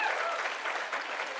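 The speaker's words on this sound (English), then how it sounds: "Another round of applause for them, please." Audience applause fills an awards ceremony hall, a dense, steady wash of clapping from a large crowd held at even loudness throughout, with no pauses or speech over it.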